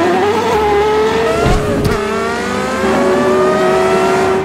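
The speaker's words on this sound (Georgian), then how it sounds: "Carrera GT-ის დაბალ ბრუნებზეც კი 2000-იანების ფორმულა 1-ის ხმა აქვს." A Porsche Carrera GT's high-revving V10 rated at 612 horsepower and 8500 rpm, its loud, close engine note holding a sustained high whine that rises and swells.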